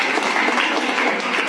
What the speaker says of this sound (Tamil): இது உங்களுக்கான கைத்தட்டு